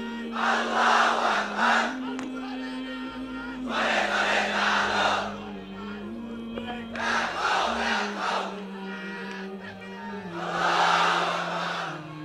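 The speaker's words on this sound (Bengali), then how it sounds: "এই হলো তাকবীর।" A large crowd shouting the takbir, Allahu Akbar, in loud unison bursts that repeat roughly every three seconds, with a steady low drone underneath between the calls.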